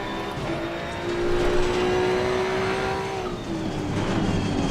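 A GT2 race car engine in the racing game Assetto Corsa Competizione drones steadily at high revs while the tires hiss and scrub as the rear slides, a continuous sustained roar.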